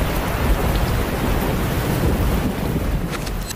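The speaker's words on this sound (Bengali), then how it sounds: "যেদিন এই ঘটনাটা হয় প্রচণ্ড ঝড় বৃষ্টি।" Heavy rain pours in a thunderstorm sound effect, a dense, continuous hiss and roar with deep rumbling underneath, fairly loud and steady before easing slightly at the end.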